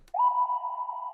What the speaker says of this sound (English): Little bell slide type sound.